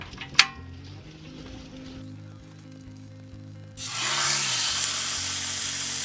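Food frying in an oiled pan while camping in a van: a quiet hum and light clatter first, then a loud steady sizzle that begins abruptly and holds to the end.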